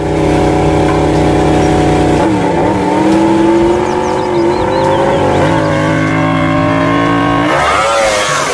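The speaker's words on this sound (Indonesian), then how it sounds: "Yang ini ada motor balap." Racing motorcycle engine revving hard and close, its steady buzzing pitch climbing, dipping and surging again in several throttle blips with no talk over it.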